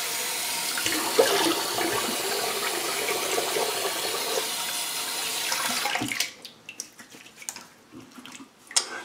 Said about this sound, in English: I'm gonna rinse my face quick.